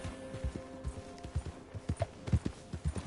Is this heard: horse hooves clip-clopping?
yes